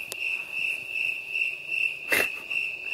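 Crickets chirp in a steady, high continuous trill at a night campsite among oak trees in North Dakota, with a brief rustle partway through and no talk.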